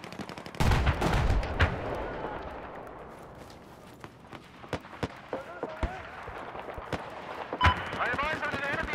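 Gunfire in Battlefield 4 opens with a loud burst of machine gun shots, then thins into scattered single and distant cracks spread irregularly across the game's battle mix.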